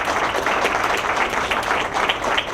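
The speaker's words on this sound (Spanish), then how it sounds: "Brindemos un fuerte aplauso a los ganadores del 10º concurso de ensayo universitarios Construyendo" An audience applauds essay contest winners at a university essay award ceremony, a full, steady burst of clapping from many hands, with no talk over it.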